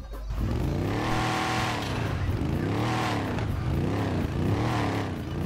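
A Swaraj 855 6x6 tractor engine revs loudly and close, its pitch climbing and falling in repeated surges, with no talk over it.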